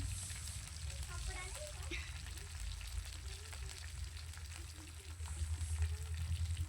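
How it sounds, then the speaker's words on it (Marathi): Hot oil sizzling and crackling steadily in a pan, with small pops, as mustard seeds, cumin and curry leaves fry; faint hum underneath and no talking. "सांबारला फोडणी देऊया. 1 चमचा मोहरी घातली, 1 चमचा जिरे कढीपत्ता घातलेला आहे."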